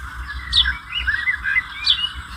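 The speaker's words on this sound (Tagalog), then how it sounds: "Mga sound ng birds." Bird sound effect from a CapCut library: bright chirps and tweets in quick, irregular calls, close and clear over a low rumble, with no voices.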